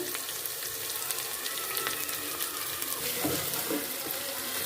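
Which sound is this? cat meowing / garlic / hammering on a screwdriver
garlic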